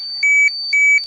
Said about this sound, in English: that beeping that you can hear indicates that there's gamma rays coming from this Ferris wheel